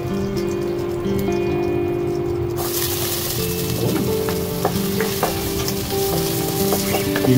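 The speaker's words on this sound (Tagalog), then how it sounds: "I-golden brown mo natin ito bawang guys." Garlic sizzles and crackles in hot chicken oil, a steady close frying hiss with scattered pops and stirring scrapes throughout.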